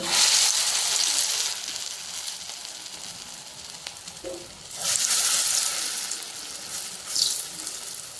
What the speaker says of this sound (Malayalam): എണ്ണ നന്നായിട്ട് തിളച്ചിട്ടുണ്ട് ഓരോ സ്പൂൺ വീതം കോരിയിടുന്നു